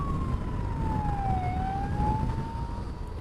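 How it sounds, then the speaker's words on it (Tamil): An ambulance siren wails on a road as it passes a motorcycle rider, its tone sliding down and then back up over steady, loud road and engine rumble. "ஆம்புலன்ஸ் வருது, நம்ம வழியை விட்டுறலாம்"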